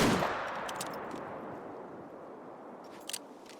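A single rifle shot while hunting in theHunter: Call of the Wild, a loud report at the start that decays into a long, wide rolling echo across the landscape, followed by faint scattered ambient clicks.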